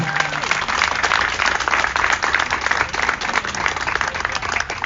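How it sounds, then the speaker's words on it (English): Sustained applause and clapping from a crowd at a charity game ceremony, dense and steady for several seconds with some voices mixed in. "I'd also like a big round of applause going out to the DeRenzis family"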